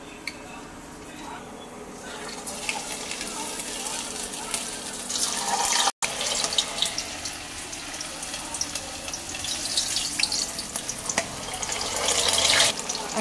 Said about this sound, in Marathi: आपली भेंडी फ्राय होत आहे, बघू शकताय